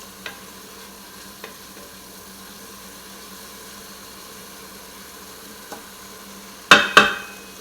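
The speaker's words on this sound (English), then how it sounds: "We're going to let this saute for a minute together." Garlic sautés quietly in an Instant Pot, a low, faint sizzle with a few light ticks, ending in two sharp clattering knocks of a utensil against the pot.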